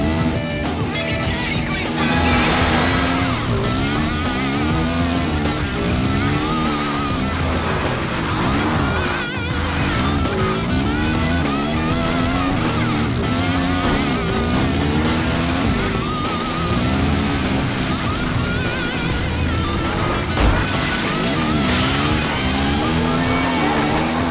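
Race car lapping a circuit in the Xtreme Racing Pure video game, with a steady, loud engine drone and rising and falling revving throughout, joined by a rain-like hiss.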